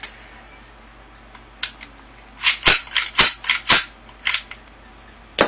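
KWC Desert Eagle airsoft pistol, orange tip removed, fired in a quick string of sharp, snappy cracks, about six to eight shots close by after a lone early pop, with no talking.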